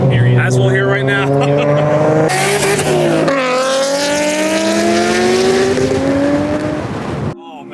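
A Nissan RB26 GT-R engine swapped into a Silvia S15 revs hard with its turbo. The loud, close engine note climbs through several rising sweeps, then cuts off sharply at the end.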